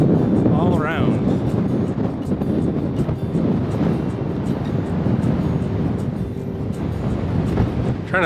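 Wind gusting across an exposed desert hilltop trail in Arizona, a loud continuous roar and buffeting against the microphone with rumbling low tones and brief higher whistles, steady throughout.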